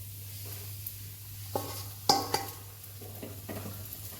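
Flour stirred into 500 grams of hot ghee over a low flame for adadiya, giving soft scraping and faint sizzling with a few sharp clicks of a spoon against the pan, close and quiet.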